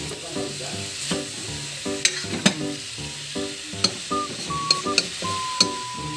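Egg with sliced bitter gourd (ampalaya) frying in a home pan, a loud continuous sizzle with repeated sharp scraping and clacking of a spatula against the pan, close up and without speech.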